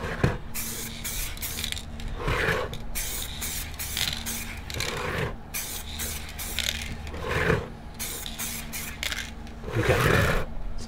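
Montana metallic effect spray paint hisses from the can in repeated short bursts, close and fairly loud, with brief gaps between sprays and faint handling noise.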